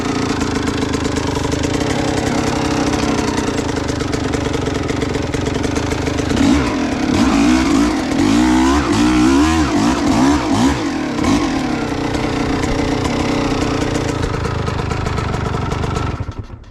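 An old Kawasaki KX dirt bike revs hard climbing a hill on a trail ride, its engine note loud and steady throughout, with a rougher stretch of throttle bursts in the middle before it cuts off abruptly at the end.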